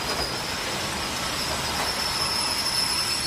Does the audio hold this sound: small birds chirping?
no